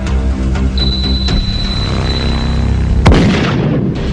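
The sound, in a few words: bamboo cannon firing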